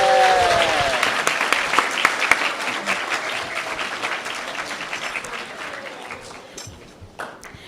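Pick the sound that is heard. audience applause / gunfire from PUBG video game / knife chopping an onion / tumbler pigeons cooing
audience applause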